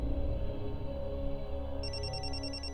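A telephone in a TV drama scene starts ringing partway through, a bright repeating electronic ring that enters suddenly over a soft, low background of music or room tone.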